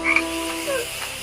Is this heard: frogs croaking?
yes